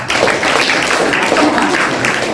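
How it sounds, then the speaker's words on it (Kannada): A crowd claps together in a steady, dense burst of applause, continuous and fairly loud throughout. "ಚಪ್ಪಾಳೆ ಹೊಡಿರಿ ಅವರು"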